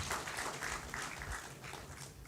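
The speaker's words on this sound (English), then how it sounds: "I would like to have a round of applause for Frappe team to arrange this amazing event" An audience at a tech conference gives a round of applause, a quiet, distant wash of many hands clapping steadily throughout.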